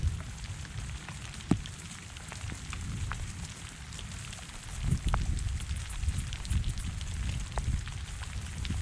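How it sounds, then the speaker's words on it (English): Steady rain from a thunderstorm in Kansas patters on a surface with a constant hiss, occasional louder drops and gusts, no voices. "Just now starting to rain. Starting to rain pretty good."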